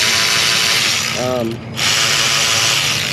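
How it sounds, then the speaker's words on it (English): Hand ratchet clicking as it loosens bolts on a 2003 Ford F450 6.0 diesel engine during a fuel injector replacement, a loud steady mechanical rasp with a short pause partway through and faint talk underneath. "I know that ratchet's very strong, but this is all I use to do these."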